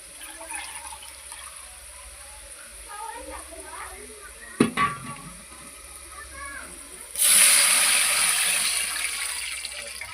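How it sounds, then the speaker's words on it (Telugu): Water pours into a pan of golden-browned vermicelli, a sudden bright rushing splash that starts late and fades slowly, after a quiet stretch with a faint voice and a brief clatter. "ఇలా వాటర్ పోసుకొని"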